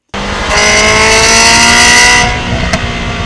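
Ferrari 360 with an aftermarket exhaust revving hard, a loud close high-pitched engine wail that holds for about two seconds and then drops back to a rumbling idle.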